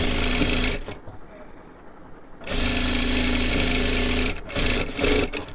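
Electric sewing machine stitching a katori blouse, a steady loud mechanical whir that runs, pauses for about a second and a half, then resumes with short bursts toward the end.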